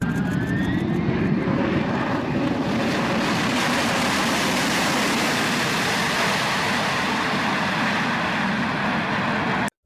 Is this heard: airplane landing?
yes